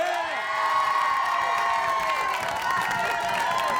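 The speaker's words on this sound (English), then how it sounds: "So we do have a screaming crowd here." A television studio crowd screams and cheers continuously, with shrill overlapping voices, whoops and scattered applause sustained throughout.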